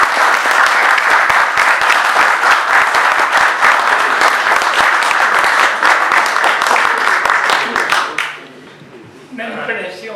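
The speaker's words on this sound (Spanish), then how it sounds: "un gran aplauso." A crowd at a civic forum at the Club del Progreso breaks into loud, sustained applause, dense rapid clapping filling the room for about eight seconds before it drops away to quieter room sounds.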